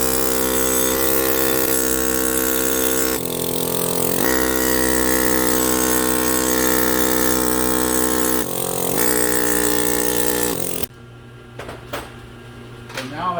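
A sanding disc, trimmed down to anvil size, grinds rust off the front brake hub of a 2007 Honda Ridgeline in a loud, continuous high-pitched whine that drops away near the end, leaving quieter scraping.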